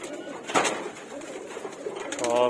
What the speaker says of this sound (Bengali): এখন হঠাৎ করে কবুতর বের করা হচ্ছে